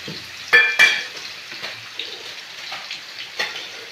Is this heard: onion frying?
yes